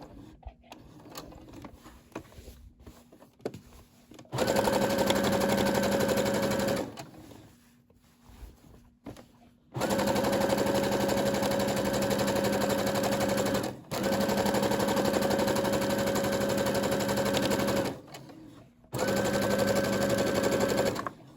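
A Brother SE600 sewing machine stitching fabric for a napkin set runs in steady, loud bursts of rapid mechanical whirring, stopping and restarting several times with short quiet pauses between runs.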